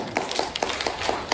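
Clapping in a lecture hall during a news talk concert: a handful of crisp, evenly spaced claps in a steady rhythm, close and fairly loud, with no talking over them.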